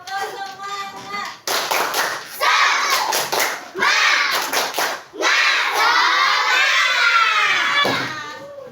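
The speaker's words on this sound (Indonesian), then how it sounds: "kita tepuk semangat dulu ya." Schoolchildren in a classroom doing a rhythmic spirit clap chant, loud, close bursts of claps in a set pattern alternating with the children's chanting voices.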